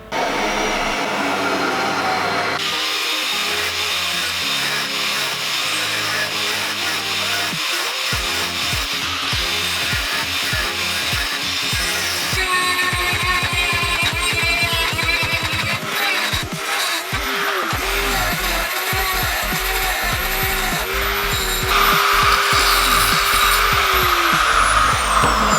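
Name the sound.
drilling holes and cutting a piece of steel angle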